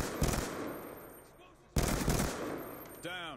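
Rapid automatic gunfire from Black Ops 2 multiplayer crackles in two sharp bursts, followed by a short rising weapon or effect sound, all fairly faint and without talk.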